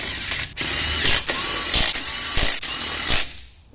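Ratchet clicking steadily as it backs colored lug nuts off a car wheel, a continuous close mechanical rattle broken by a few brief pauses, with no talk.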